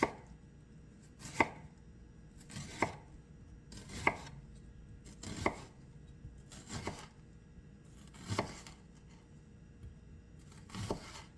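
A knife slicing through stuffed tilapia on a cutting board, with about eight separate cuts landing at a slow, steady pace, each a crisp close-up chop over quiet background.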